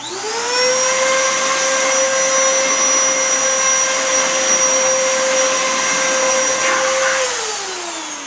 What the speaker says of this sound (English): Vacuum all the cat hair off of it.